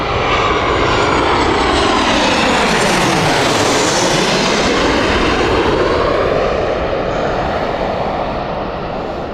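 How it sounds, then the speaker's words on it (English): A TUI Boeing 737 jet passes close by at Gatwick Airport with a loud, sustained engine roar whose pitch sweeps and shifts as it goes past, with no voices. "Here is TUI with their 737."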